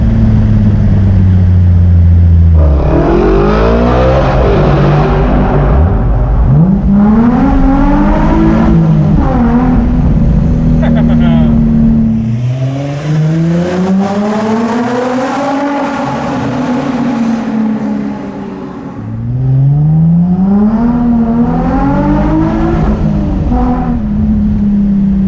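A Nissan 350Z with a custom exhaust revs hard inside a tunnel, with loud, echoing bursts of rising and falling engine pitch repeated several times and brief dips between the pulls.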